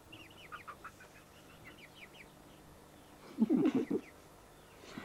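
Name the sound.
chicken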